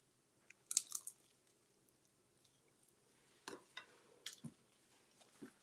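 Someone bites into and chews a rice cake pepperoni pizza snack topped with pasta sauce and red pepper flakes, with soft crunches and squishy chewing close to the mic between quiet pauses.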